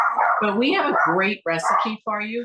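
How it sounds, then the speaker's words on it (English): Dogs bark and yip in a yard, the barks repeating under steady, close talking that runs through the whole moment. "You can hear them barking."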